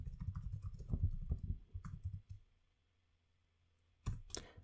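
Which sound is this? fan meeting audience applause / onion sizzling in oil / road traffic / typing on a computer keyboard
typing on a computer keyboard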